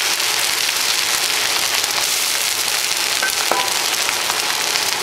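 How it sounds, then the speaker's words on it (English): Soy sauce trickles in a thin stream onto fried rice with mushroom and seaweed as it sizzles in the pan, a steady close crackling hiss with no talking. "This is the best way I found to put soy sauce"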